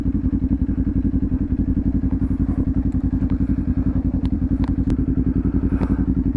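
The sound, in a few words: motorcycle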